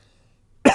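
A single short, sharp cough bursts out at the very end after near silence, close and loud.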